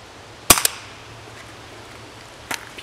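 A homemade rifle with a barrel made from rebar fires a Colibri round, giving one sharp, close crack followed by a faint trailing click and a quieter second snap later on, with no voices.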